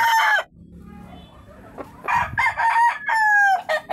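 Rooster crowing on a farm, a couple of loud, close crows with a drawn-out final note, separated by a short quiet gap with faint low background noise.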